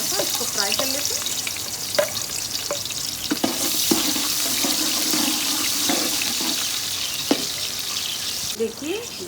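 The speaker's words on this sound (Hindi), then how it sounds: "उसके बाद ये मैंने 2 मीडियम साइज़ की प्याज को काटा था, इसको फ्राई कर लेते हैं।" Two medium onions frying in hot oil for Afghani Kabuli pulao, a dense bright sizzle throughout with scattered stirring knocks and scrapes against the pot.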